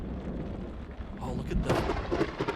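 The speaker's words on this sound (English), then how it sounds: "I am really impressed that they have really good thunderstorm sounds." Thunder from a thunderstorm in the video game Outbound, a low rolling rumble that swells into crackling bursts midway, with rain-like hiss underneath.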